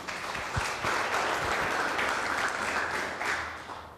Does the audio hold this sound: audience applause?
yes